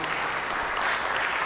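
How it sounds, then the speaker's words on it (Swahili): An audience claps at a national science, technology and innovation conference in Tanzania, with a dense, steady round of applause filling the hall throughout. "Tuongeze tena makofi kwa Dr."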